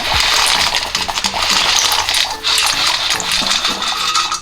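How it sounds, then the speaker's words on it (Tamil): Dry macaroni pasta tipped into a pot of salted water heating toward a boil, a loud close rattling patter of pieces striking metal and splashing, rising and falling in bursts. "தண்ணி வந்து பாயில் ஆக போகுது, அதுக்கு முன்னாடி நம்ம பாஸ்தா போட்டுக்கலாம்"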